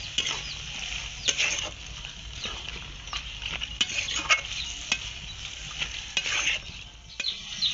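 Fish head masala sizzles and gets stirred in a pan after peas and chopped tomatoes are added, with a steady sizzle broken by repeated scraping strokes of a spatula.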